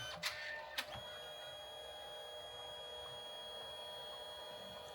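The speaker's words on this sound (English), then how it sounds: "That's how the printer works." A Canon Selphy CP1300 compact photo printer printing a postcard-size photo makes a faint, steady mechanical whir and hum, with two quick clicks near the start, quiet and continuous with no voices.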